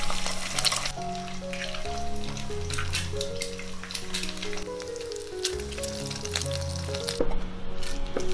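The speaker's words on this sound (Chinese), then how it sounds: "还是用原来的油煎三个鸡蛋" Three eggs frying in the oil left over from pan-frying tofu, a constant close crackling sizzle with small pops and occasional soft clinks of chopsticks against the pan.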